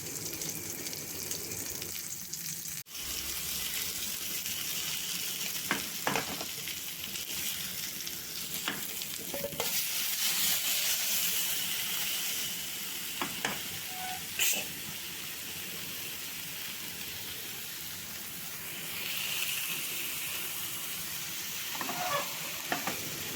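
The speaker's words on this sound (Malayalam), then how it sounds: "മീൻ തിരിച്ചും മറിച്ചുമിട്ട് രണ്ട് സൈഡും നന്നായി മൊരിയിച്ചെടുക്കണം." Fish fillets sizzle steadily in hot oil in a pan as they are flipped to crisp on both sides, with occasional clinks and scrapes of a utensil and a brief splash of running tap water.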